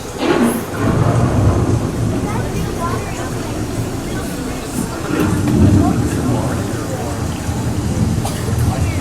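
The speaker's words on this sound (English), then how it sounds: "The approaching storm may seem violent and destructive to us" Rolling thunder rumbles low and heavy with a steady wash of rain, swelling and fading in slow waves as a storm approaches, a broad continuous roar with no distinct voices over it.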